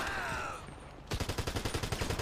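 Automatic gunfire from locals in GTA RP NoPixel erupts as a rapid, evenly spaced burst of loud close shots after a quieter stretch of ambience.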